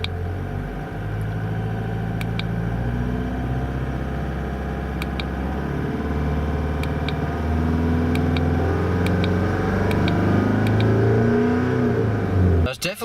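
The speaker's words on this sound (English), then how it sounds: "going to do is just put my foot on the accelerator just a little bit, just to bring it up" A car engine idling at about 1300 rpm hums steadily, then rises slightly as the accelerator is pressed, with soft ticking clicks above the drone and a voice talking over it.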